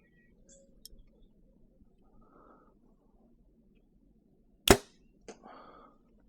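An arrow is loosed from a bow: after quiet, a single sharp loud snap of the release comes close, then a smaller knock and a brief fading rattle.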